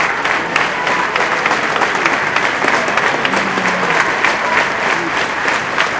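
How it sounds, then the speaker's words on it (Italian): Outside the provincial carabinieri command, a large crowd breaks into long, loud, sustained applause, a dense unbroken roar of clapping that holds steady throughout. "L'arrivo davanti al comando provinciale dei carabinieri è un lungo, dirompente scrosciare di applausi"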